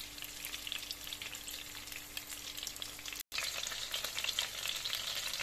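Homemade battered chicken nuggets fry in hot oil with a steady, dense crackling sizzle that carries on nearly unbroken, with one brief dropout partway through.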